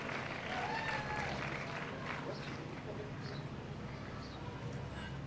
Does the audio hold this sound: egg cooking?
no